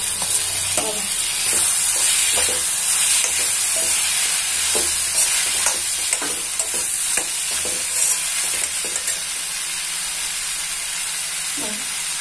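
Maggi noodles stirred into a vinegar-tinged gravy in a pan, a loud continuous steamy sizzle with regular scraping strokes of a spoon across the metal.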